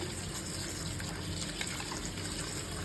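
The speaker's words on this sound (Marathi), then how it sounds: "आता नळाचं पाणी टाकलं याच्यामध्ये" Steady gushing of tap water pouring continuously into a container, a constant close rushing hiss with no talking.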